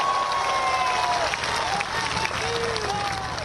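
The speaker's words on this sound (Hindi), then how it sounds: "यदि भरोसा हो तो तालियां बजाइएगा।" Crowd applause at an outdoor BJP political rally in Balurghat, Bengal, a broad wash of clapping with scattered voices and faint whistles or calls rising above it.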